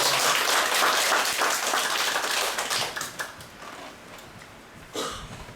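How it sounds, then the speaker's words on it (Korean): A lecture-room audience gathered for a talk on hanok pest control gives a brisk round of welcoming applause that fades out after about three seconds, leaving a few scattered taps and knocks. "박수로 맞이해주십시오."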